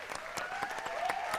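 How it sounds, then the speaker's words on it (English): Canned applause effect fired from a button during a gold price broadcast, a short steady burst of crowd clapping with no talk over it. "do we have an applause button,"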